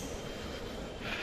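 A metro train pulls away from a station platform on the Uttara to Motijheel line, its brief, steady, broadband rumble close and fairly loud with no voices.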